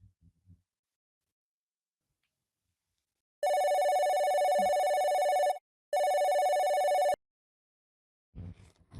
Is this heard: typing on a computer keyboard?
no